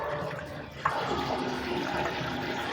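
Water from a basin tap gushing steadily at high pressure, a continuous loud broadband rush with a brief knock partway through and no talking.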